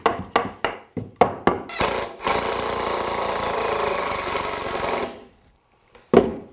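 Several quick taps into wood lead to a power driver running continuously for about three seconds, sinking a long screw into a wooden frame, with a short final burst after a pause.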